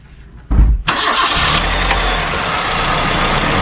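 A 2003 Nissan Sunny Neo 1.6-litre petrol engine with automatic gearbox turns over and fires, then runs at a smooth, even idle close by, with no one speaking.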